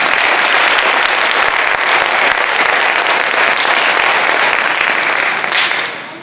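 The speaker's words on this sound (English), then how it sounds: "Let's give them all a round of applause." Loud, sustained applause fills the hall at a high school fire science cadet graduation as the crowd claps for the instructors and partners, tapering off at the very end.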